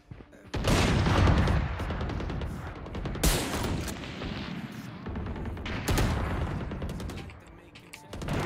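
Rapid bursts of gunfire crackle in a mobile shooter video game, with repeated loud shots, booms and volleys rising and falling across the stretch.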